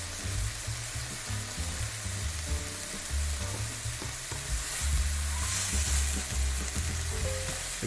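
Pork and onion stir-frying in a pan for pad kra pao with basil, a continuous close sizzle layered with rumbling stirs and scrapes that swell briefly toward the middle, with no voices.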